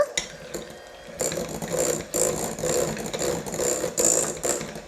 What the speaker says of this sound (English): we're just gonna give that a little mix with our hand mixer